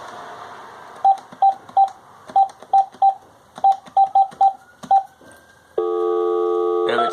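A telephone keypad dials a number as a quick series of sharp, evenly spaced touch-tone beeps, loud and close, then gives way to a steady multi-tone line signal.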